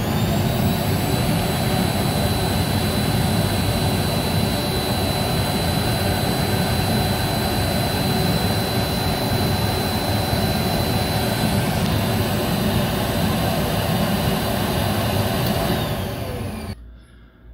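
A Canavac XLS central vacuum runs during an airflow test with a loud, steady roaring whine and hum that holds evenly throughout, then cuts off abruptly at the very end.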